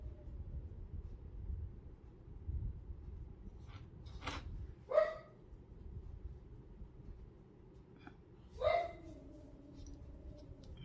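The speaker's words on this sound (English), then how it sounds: "Dog's barking." A dog barks a few times in the distance, two or three sharp, separated barks over a low steady background hum.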